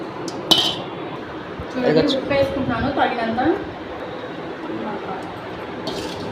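A spoon stirs rice mixed with an onion and green chilli tempering in a hot pot, giving sharp metallic clinks and scrapes near the start, with a person talking over the stirring.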